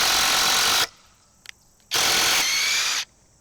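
A Bosch impact driver drives screws at speed 2 in two loud, rapid hammering bursts of about a second each, separated by a quiet gap with faint clicks.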